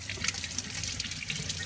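Tap water running into a kitchen sink while vegetables are rinsed, a close, steady splashing rush with small drips and gurgles and no voices.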